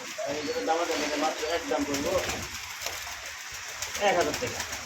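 Pigeons at a pigeon market coo softly in low, repeated throaty notes, while people talk nearby over them.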